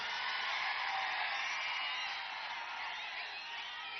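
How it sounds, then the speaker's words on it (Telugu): Massed voices at a big Jana Sena political rally in Korukonda keep up a continuous, even roar of shouting and cheering, fairly distant and steady throughout. "మీ అరుపులు, మీ కేకలు"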